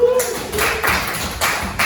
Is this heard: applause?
yes